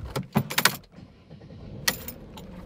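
Car keys jangle in two or three quick metallic bursts up close, followed by a quieter stretch and another brief jingle, with no talking.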